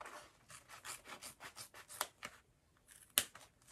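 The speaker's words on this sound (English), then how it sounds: "Some micro snips to cut this open down the center, snip out to the corners." Micro snips cut through backpack fabric in a quick series of close, crisp snipping and rustling strokes, then pause before one sharper final snip.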